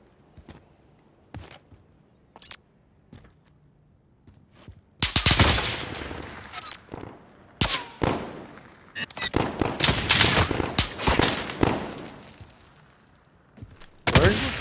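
Gunfire in a shooter video game: scattered single shots at first, then dense, loud bursts of rapid firing and impacts over several seconds, with a final sharp blast at the end.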